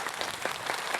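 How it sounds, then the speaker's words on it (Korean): An audience applauds at the 9th Honbul Literary Award ceremony, honoring the panel of novelist judges: a brief, dense, steady wash of many hands clapping at once, with no voices over it. "여러분 박수 한번 보내주시면 좋을 것 같습니다"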